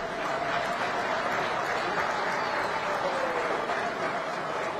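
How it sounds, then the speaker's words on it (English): Steady, dense clapping from a large crowd at a summit meeting of heads of state fills the whole stretch, loud and sustained with no pauses. "A round of applause, ladies and gentlemen."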